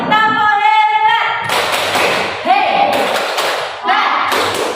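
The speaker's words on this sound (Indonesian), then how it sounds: "Kita kasih tepuk hebat lagi." Classroom "tepuk hebat" clapping, a few sharp rhythmic claps and thuds following a teacher's sung call, with children's voices joining in between.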